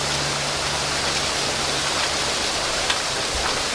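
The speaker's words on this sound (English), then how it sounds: "It's raining." Heavy rain pours down steadily in a dense, unbroken hiss that fills the whole clip, loud and close, with no voices over it.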